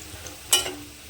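Onion, fried until lightly browned, hisses softly in a pan while a spatula scrapes through it twice, each stir a brief, sharp rasp over the quiet sizzle.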